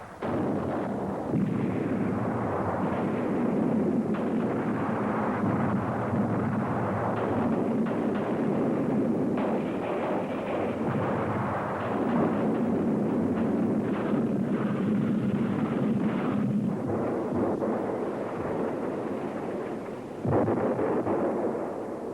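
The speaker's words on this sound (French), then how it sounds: "900 canons tirent pendant 100 heures sur un front de 12 km." Continuous heavy artillery barrage on a 12 km front, hundreds of cannons firing: a dense, unbroken rumble of overlapping booms and blasts that stays loud throughout, with a brief dip and fresh surge near the end.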